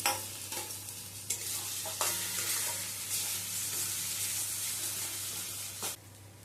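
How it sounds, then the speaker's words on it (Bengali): Pasted giant taro frying in spiced masala in a pan, with a steady sizzle and repeated scraping stirs of a spatula, close and alone. "ভালো করে মশলাটা কষিয়ে নেওয়ার পর আমি এর মধ্যে দিয়ে দেব পেস্ট করে নেওয়া"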